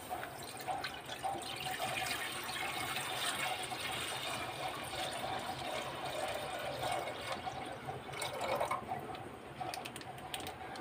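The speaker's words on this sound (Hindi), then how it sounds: "मैं इसमें दूध डाल देती हूँ" Milk is poured steadily into a pot for making kheer, a continuous liquid splashing and trickling that runs for about eleven seconds at a moderate, even level with no talking.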